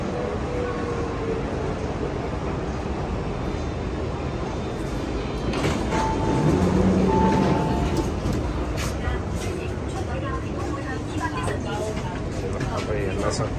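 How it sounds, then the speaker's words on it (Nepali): A driverless automatic MTR train on the South Horizons–Admiralty line in Hong Kong pulls into an underground platform with a steady rumble and a swell of noise midway, plus beeping door chimes, while someone talks throughout. "अटोमेटिक ट्रेन आइपुगेको छ"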